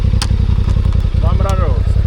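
Enduro motorcycle engine revving steadily with a rough, throbbing low drone, close and loud, while a voice speaks briefly over it midway.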